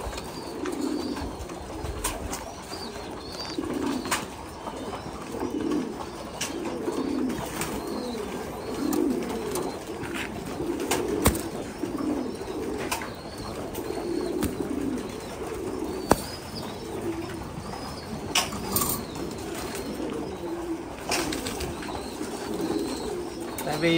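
Pigeons coo softly in a low, repeated murmur that carries on steadily throughout, with occasional wing flaps and faint chirps in the background.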